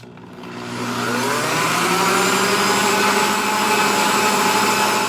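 An electric mixer whirs through cream, sugar and vanilla for butter cookies, starting up and then holding a loud, steady motor drone with a slight rising whine, no talking.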